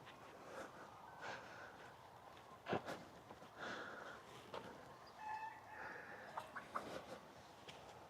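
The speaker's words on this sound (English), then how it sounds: "I heard a clucking. We have a chicken." A chicken clucking on a farm in the morning, with soft, irregular clucks and snorting calls spread through the clip and one sharper note partway through, over quiet background noise.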